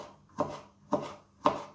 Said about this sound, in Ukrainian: Само соломкою потрібно нарізати і огірок